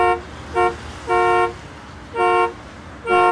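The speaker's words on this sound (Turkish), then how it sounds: "Kardeşim ne basıyorsun kornaya tak tak tak tak." A car horn honks in a street scene, four or five loud, close, sharp blasts with short pauses between them, some longer than others.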